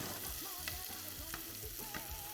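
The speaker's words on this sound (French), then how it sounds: "Donc là, on fait juste colorer nos oignons avec la gousse d'ail." Onions and a garlic clove browning in a pan make a quiet, continuous frying sizzle, with a few soft scrapes of stirring spaced through it.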